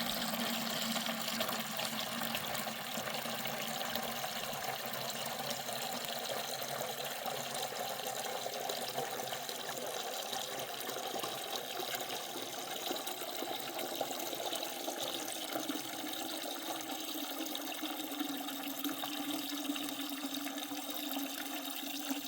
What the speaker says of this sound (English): we're probably going to be around the 5 gallon mark per minute on the older hose faucet